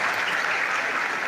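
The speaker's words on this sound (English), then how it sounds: "Please, with a thunderous applause, welcome your own Provost, Professor M.S." Brief burst of loud, dense applause from the audience at a medical school induction ceremony for new doctors, continuous clapping welcoming the provost.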